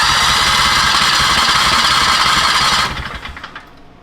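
A 670cc V-twin go-kart engine on a Manco Deuce build fires up for its first start, with a loud, steady rumble and hard pulsing that runs for about three seconds before dropping away quickly.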